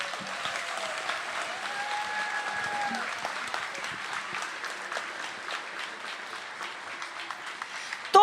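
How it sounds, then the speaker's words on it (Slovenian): A crowd at an outdoor pro-life march in Ljubljana claps at a moderate distance, a steady scattered patter of applause lasting throughout, with faint voices beneath. "Hvala vsem mamicam in očkom, zaploskajmo si."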